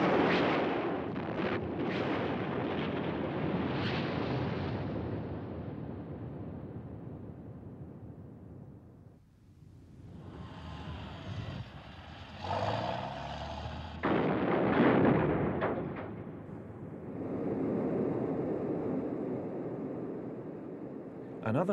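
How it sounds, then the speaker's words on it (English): SG-357 runway cratering bombs and HB-876 parachute-descending runway mines explode in a chain of deep, rumbling blasts with rolling booms and sharper bursts, loud and sustained, with a voice talking over them. "a mixture of SG-357 runway cratering bombs and HB-876 mines, which descend by parachute and are designed specifically to damage runways"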